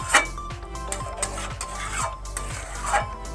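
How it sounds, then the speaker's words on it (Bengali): Rohu fish curry with potatoes boils in a pot, a soft bubbling under repeated rhythmic scraping and stirring strokes against the metal, close and moderately loud. "এবার আমার এটাকে ভালো করে ফুটিয়ে নিতে হবে যাতে মাছগুলো সেদ্ধ হয়ে যায়"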